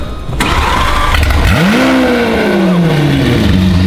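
A Lamborghini Aventador SV engine cranks and fires up at about one and a half seconds, then settles into a loud, rumbling idle. Outdoor noise fills the background.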